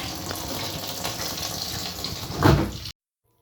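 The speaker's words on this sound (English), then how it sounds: "I'll just add more water and repeat the spinning" Water gushes steadily into a washing machine tub for a rinse cycle, a continuous splashing flow that swells briefly louder before cutting off abruptly into silence.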